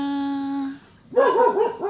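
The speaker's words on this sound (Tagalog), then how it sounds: "Ala, may aso." A dog barks and yelps in a quick series of sharp, nearby calls, following a steady tonal hum that cuts out just before.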